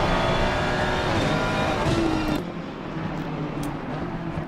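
Onboard Ferrari race car engine in a PC racing game at Indy, a loud steady high-revving drone that drops slightly in pitch and intensity partway through.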